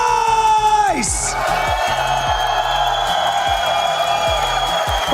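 A large esports arena crowd at an Apex Legends Global Series group stage cheers and yells in a sustained roar, with whoops rising over the din and a rhythmic thumping beat underneath.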